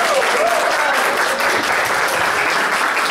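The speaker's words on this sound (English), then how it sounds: "a round of applause for Nelson." Audience at a community forum on the future of Puerto Rico applauds, a dense, steady wash of clapping filling the whole moment, close and loud.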